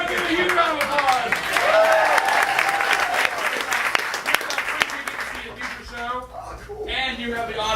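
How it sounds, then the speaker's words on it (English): Audience applause for improv performers from Australia, New Zealand and America, a loud sustained round of clapping with cheers and shouts, thinning out toward the end while voices carry over it. "Give a huge round of applause."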